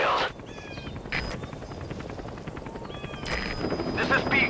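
Extraction helicopter in Metal Gear Solid V: The Phantom Pain, heard as a steady rotor drone under game sound effects and talking voices, growing slightly louder toward the end.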